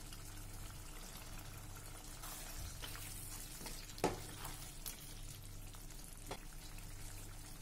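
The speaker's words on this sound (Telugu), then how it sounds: "ఇలా ఉడికిన చికెన్లో క్యూబ్స్లా కట్ చేసుకున్న ఆనియన్స్ వేసుకోవాలి." Cubed onions frying with cooked chicken in a kadai give a quiet, continuous low sizzle with occasional stirring clinks and scrapes, including one sharper clink midway, heard close with no speech.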